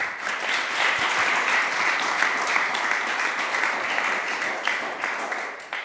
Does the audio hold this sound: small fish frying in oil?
no